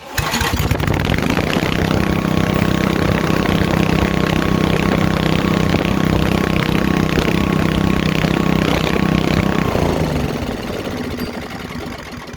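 A 1991 Briggs & Stratton 8 HP generator engine fires on a pull start and runs at a steady, loud, close idle for about ten seconds, then winds down and fades near the end.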